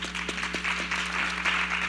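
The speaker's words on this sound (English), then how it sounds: "Let's give a round of applause to the panel." Audience applause for a panel at a non-profit symposium, steady dense clapping from a roomful of people, moderately loud and unbroken through the short stretch.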